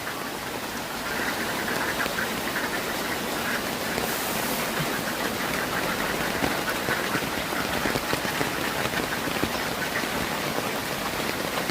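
Ducks quack through steady heavy rain, the downpour a constant hiss on the water and ground with the quacks mixed into it at close range, and no one speaks.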